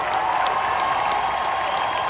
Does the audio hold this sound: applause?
yes